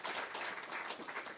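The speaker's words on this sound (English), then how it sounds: "definitely give them a round of applause" Audience at a Wave Street Studios event applauds Rhett and Judy with a soft, continuous patter of many hands that stays faint and distant for a moment.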